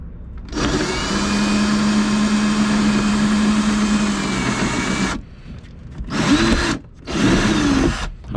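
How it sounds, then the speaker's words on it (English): A power drill bores a hole into the wheel well of a Jeep Gladiator, a loud sustained whine for about five seconds, then two shorter bursts after brief pauses, with no talk. "Now we're drilling in here."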